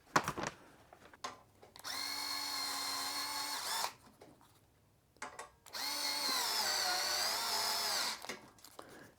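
Power drill driving screws to fasten a front rack onto a Lectric XP trike, in two steady whining bursts of about two and three seconds each, separated by a short pause with light handling clatter, close and loud.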